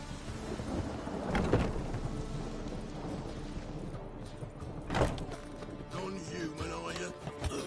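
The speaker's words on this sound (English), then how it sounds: "Rain was coming. Felt it in my bones." A thunderstorm with rain in the video game The Witcher 3: Wild Hunt, steady rainfall hissing throughout with two deep rolling thunder rumbles, one early and one near the five-second mark.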